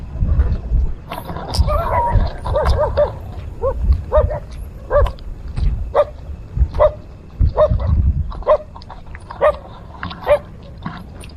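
A dog barks repeatedly in sharp, evenly spaced bursts on a bridge road with a tunnel, loud and fairly near over a low rumbling background of passing traffic, with no talking.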